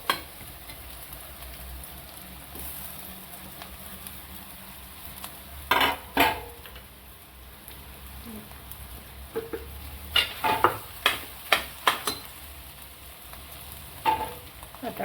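Potato and spices, including turmeric, asafoetida and coriander powder, are stirred in a pan for a Marathi-style vegetable. A faint sizzle runs underneath while a spoon scrapes and clinks against the pan in scattered bursts.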